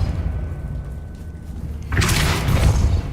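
Depulso spell effect in the Hogwarts Legacy video game, one sudden loud whooshing blast that bursts in after a quiet stretch and rushes on for about a second.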